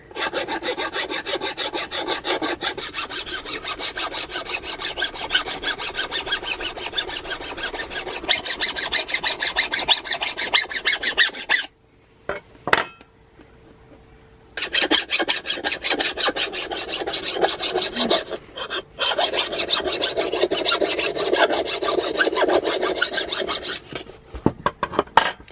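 A metal file scrapes rust off the blade of a 1970s Aeflyte ice skate with a steady, loud, coarse rasping. Long continuous strokes run close by, with a short pause partway through before the scraping starts again.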